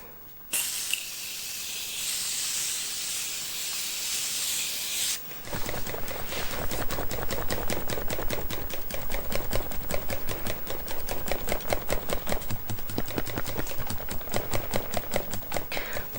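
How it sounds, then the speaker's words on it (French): Makeup setting spray hisses in one long burst of about five seconds during a natural bridal makeup session, close and clear, followed by a rapid rhythmic pumping of quick clicking sprays. "Un petit coup de spray."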